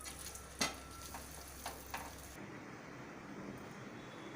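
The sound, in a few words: stirring kadai paneer in the pan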